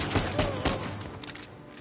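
Gunfire from a PS5 shooter game: a rapid fusillade of several close, loud shots in the first second, then a fading rattle and echo.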